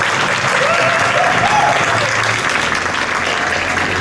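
Sustained crowd applause for the artists at the Toronto Rath Yatra festival, a dense, steady wash of clapping from many hands lasting throughout at an even, fairly loud level.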